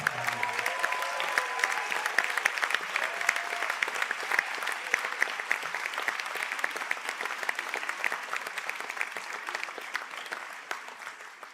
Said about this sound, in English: I think that deserves one final round of applause.